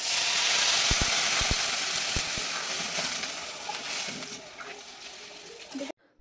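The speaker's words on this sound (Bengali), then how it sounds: "দিয়ে একটু নাড়াচাড়া করে একটু ভেজে নেব" Rice and dal stirred and fried in a pan for khichuri, a loud hissing sizzle with a few sharp spoon knocks against the pan early on, fading slightly before stopping abruptly.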